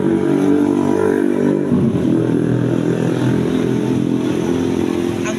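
Traditional tricycle from Tandag with a motorcycle engine revving steadily and droning close by for several seconds, a continuous loud rumble with a slight shift midway as it passes.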